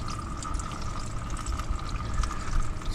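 Flood water gushing steadily out of a flooded Camaro, a continuous close splashing pour that grows slightly louder toward the end.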